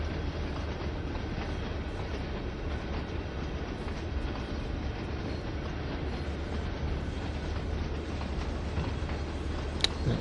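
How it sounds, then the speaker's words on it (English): A train rumbles steadily past in Train Sim World 3 on the Clinchfield Railroad route, a constant low mechanical roar with faint rail clatter and no voices. "Wait for the train to pass."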